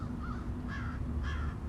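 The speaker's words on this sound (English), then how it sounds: "I am pretty sure that this crow" A crow perched unseen in the top branches of a tree overhead caws a few times, clear over a steady low hum.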